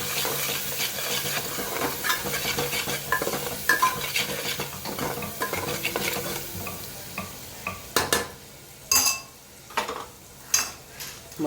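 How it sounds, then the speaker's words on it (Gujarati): A spoon stirs red chili powder, garam masala, coriander-cumin powder and salt into a pan of cooking food, with a soft frying hiss, followed by several sharp scraping clinks against the pan. "લાલ મરચું, ગરમ મસાલો, ધાણા જીરું, મીઠું સરસ બધું આપણે મિક્સ કરી લઈએ."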